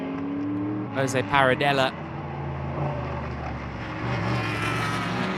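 Production Datsun race cars battle on the Jarama circuit at a classic race meeting, engines droning and passing at moderate distance, with a commentator talking briefly over the rising engine noise.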